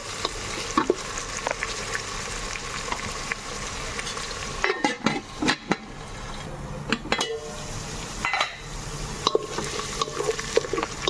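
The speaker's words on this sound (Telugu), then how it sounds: "ఉల్లిపాయ ముక్కలు పచ్చిమిరపకాయల ముక్కలు బాగా మగ్గిపోవాలి ఆయిల్లో" Onion and green chilli pieces sauté in oil in a cooker for a chicken curry with bottle gourd. A steady close sizzle runs under sharp scraping clicks of a wooden spatula being stirred.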